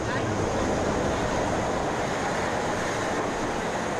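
A steady rumbling roar of a cogwheel train grinding uphill in Switzerland, continuous and fairly close, with no voices.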